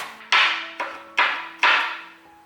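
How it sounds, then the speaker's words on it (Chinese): A knife chops ginger on a board in four sharp, evenly spaced strikes, each with a brief fading ring, close and clear against a quiet background. "准备10克的姜，切成姜末，先切片，再切条，再切成姜末"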